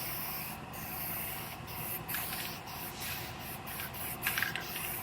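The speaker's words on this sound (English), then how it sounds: "Now I'm gonna put one more coat of guide coat over all the primed area" Guide coat sprayed over primed car body panels as a continuous close hiss, with faint rhythmic pulses as the aerosol is swept back and forth.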